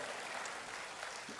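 Church congregation clapping in praise, a steady dense patter of many hands filling a short stretch without pause, moderately loud and even throughout.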